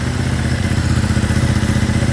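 A Ducati Monster motorcycle with a dual exhaust idles while warming up, a steady, loud, close rumble with an even low pulsing throb and light mechanical clatter throughout.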